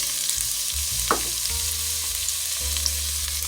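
Chopped celery sizzles in hot olive oil in a Dutch oven, a steady close frying hiss with a brief stir and scrape partway through.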